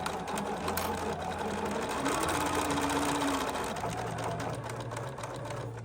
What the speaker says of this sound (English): I'm gonna back stitch and then cut my threads. My machine will do that for me.